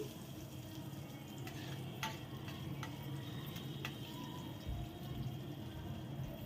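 Urad dal, cumin and ginger fry lightly in a pan, giving a steady low sizzle with scattered small ticks and pops throughout and no speech.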